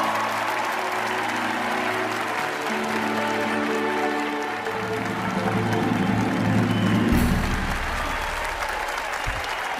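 A crowd of audience members applauds a performer, steady, dense clapping filling the space throughout, with a few faint voices and a brief rise in cheering near the end.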